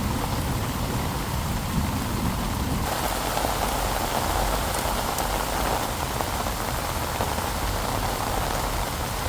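Steady rain falls outdoors in Intramuros, the walled city of Manila, Philippines, a dense continuous hiss of drops striking surfaces close by, with no voices throughout.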